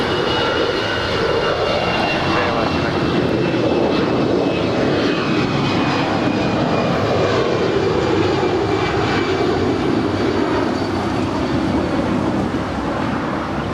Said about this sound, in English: This is Alaska Airlines Flight 296. Departing to Seattle, it's a 10-year-old A320.